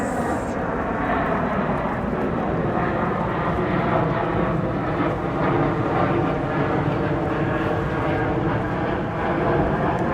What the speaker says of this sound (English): as a plane literally lands